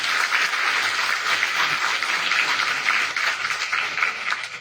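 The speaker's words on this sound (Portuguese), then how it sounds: "Dê um forte aplauso ao Senhor" A church congregation at a sermon applauds, giving a dense, steady clapping that fills the room for several seconds before starting to fade.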